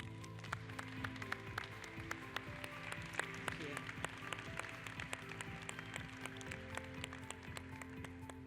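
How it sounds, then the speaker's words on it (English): A conference hall audience at the IGF 2025 opening plenary in Norway claps in a steady, even patter that runs throughout, moderately loud and unbroken. "Please welcome on stage and a warm round of applause."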